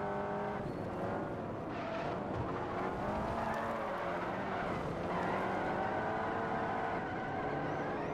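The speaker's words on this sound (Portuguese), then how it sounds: "o carro tá cantando pneu" Cars race in the Forza Horizon video game, with a Lamborghini Diablo among them: a loud, steady engine roar and tire squeal that run without a break, rising and falling slightly as the car corners.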